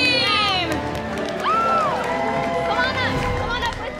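At TwitchCon, a live audience cheers for the winning blue team after a Lineage 2: Revolution 30 versus 30 Fortress Siege match, with loud, sustained whoops, high shouts and crowd roar filling the whole stretch.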